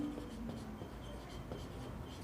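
A pen or marker scratches faintly across a writing surface in short strokes, quiet and close against a steady hiss of background noise, with no talking.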